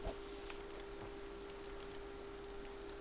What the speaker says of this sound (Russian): Дождик.